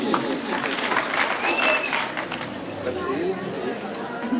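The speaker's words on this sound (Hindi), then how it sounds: "इन 2 बच्चों के लिए तालियां जी।" Audience applause at a school prize ceremony, honoring top-ranked pupils: steady, dense clapping fills the whole stretch with voices talking and murmuring underneath.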